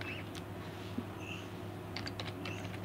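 Assembly code is being typed on a computer keyboard. A few faint, scattered key clicks sit over a steady low hum, clustering into a quick run toward the end.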